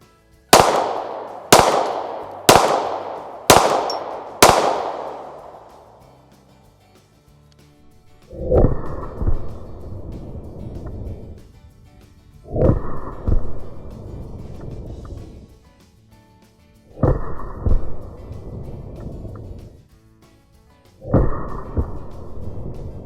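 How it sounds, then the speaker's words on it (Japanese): A Sig P365XL pistol fires five sharp, loud shots in quick, even succession outdoors, each with a short ringing tail, followed by several heavier, more booming reports spaced a few seconds apart. "次はねシグの P365XL、 これも同じく5発撃ってリコイルを見ていきます。"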